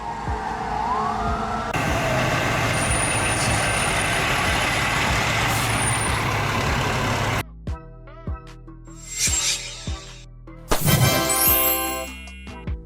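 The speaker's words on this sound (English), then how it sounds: "Urban search and rescue vehicle, used in building collapses, earthquakes, or large fires where people are trapped" Urban search and rescue truck used at building collapses, earthquakes and large fires, carrying cutting tools and lifting gear: a loud sustained engine and siren wash, then air-brake hisses and short horn or siren blasts, with no talk.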